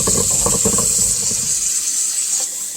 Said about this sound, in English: Rinse the feathers off the fingers, so you can see what you're doing.